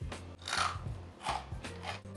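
Close, crisp crunches as someone bites into the crust of homemade no-knead bread baked with a can of beer: three or four sharp crackling bites separated by short pauses, with no talking.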